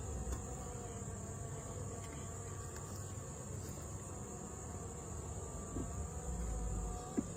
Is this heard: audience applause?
no